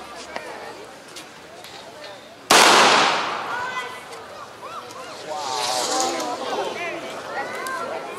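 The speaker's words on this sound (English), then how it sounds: "He's going to fire a flare gun." A flare gun fired at a German army weapons demonstration: one sharp, loud pop followed by a fading hiss, with a crowd talking in the background.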